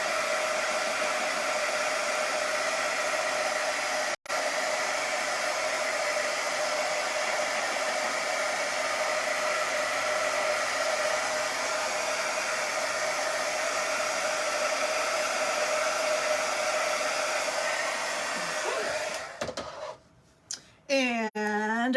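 A hair dryer blows steadily and loudly on a flower basket welcome sign, a constant close whoosh lasting nearly twenty seconds with one brief click, then it cuts off and fumbling noises follow.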